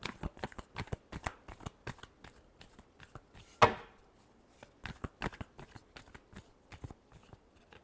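Tarot cards being shuffled by hand, a rapid series of crisp close riffling snaps and taps in an uneven rhythm, with one louder flurry midway, quiet overall and without talking.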